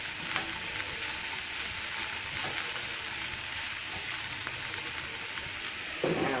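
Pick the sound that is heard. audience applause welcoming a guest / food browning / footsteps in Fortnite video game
food browning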